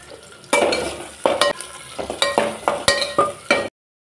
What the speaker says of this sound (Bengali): পেঁয়াজ রসুন আদা এখন আমি একটু ভেজে নেব